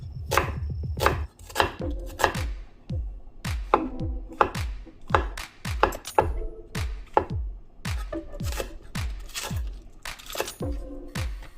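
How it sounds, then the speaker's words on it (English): A knife chops vegetables on a cutting board for a beef bulgogi dish, with steady, close, rapid strikes in quick runs and brief pauses, loud and with no talking. "Now cut the vegetables."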